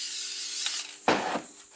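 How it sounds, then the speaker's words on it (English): Spray adhesive glue misted from an aerosol can in a workshop, a steady close hiss running for about a second, then a brief stronger burst. "I've got some adhesive glue here, some spray adhesive. So turn it over, give it a light spray"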